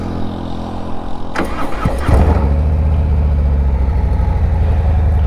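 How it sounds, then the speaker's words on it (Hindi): Harley-Davidson Fat Boy 107 cruiser motorcycle fired up close by: a quiet lead-in, a brief starter whir, then the engine catches with a loud bark and settles into a deep, steady, throbbing idle. "मैंने अभी गाड़ी स्टार्ट कर दिया"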